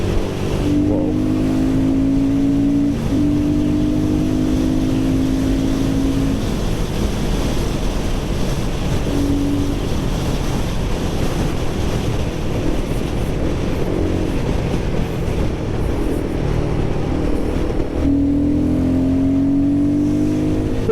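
Royal Enfield Guerrilla 450 motorcycle engine revving hard as the rider accelerates through the gears after dropping down two, loud and continuous under wind roar, with rising pitch sweeps broken by brief gear shifts.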